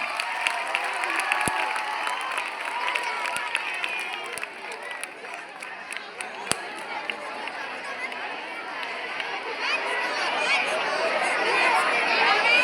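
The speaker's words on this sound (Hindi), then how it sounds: "वेरी गुड, तालियां बजाइए" Scattered clapping from a group gathered outdoors at a fire safety mock drill, mixed with crowd chatter and voices, moderately loud and uneven, swelling slightly toward the end.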